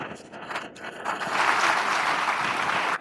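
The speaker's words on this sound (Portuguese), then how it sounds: "aqui estão me aplaudindo os irmãos daqui." A church congregation claps, starting scattered and swelling into fuller, sustained applause heard from a short distance.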